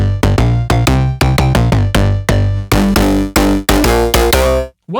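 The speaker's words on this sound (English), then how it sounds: "when I turned the mod wheel, listen, the distortion added" An Omnisphere 2.6 synth patch plays a series of loud, punchy repeated notes that grow brighter and more distorted as the mod wheel is turned, ending in a short burst of noise.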